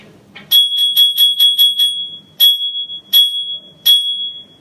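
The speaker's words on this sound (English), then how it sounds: "And there went the bell." A school bell rings for the lunch break, a bright metallic ring repeated in a quick burst of about six strikes, then three more spaced single rings, loud and close with no talk.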